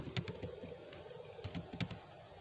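Typing on a computer keyboard during a math software tutorial: soft, quick key taps in two short bursts over a steady background hiss, fairly quiet and without speech.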